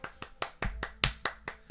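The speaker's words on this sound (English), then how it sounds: "Everyone clap. Put your hands together." A few people clap their hands in a steady rhythm of about nine sharp claps, fairly close, during a Left 4 Dead 2 gaming session with no talking.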